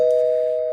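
A doorbell gives a single clear electronic ding, a pure steady tone that rings out loud and close and fades slowly, with nothing else around it.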